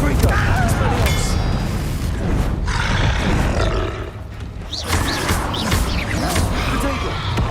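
Confringo spell explosions in Hogwarts Legacy: loud, roaring blasts and booms with growling creature sounds layered over them, continuous and dense, dipping briefly midway before surging again.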